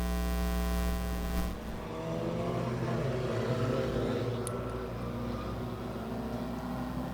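Four-cylinder pro race cars roar at the start of a race, a loud pack of engines droning and revving together, with pitch shifting as they pull away, steady and close.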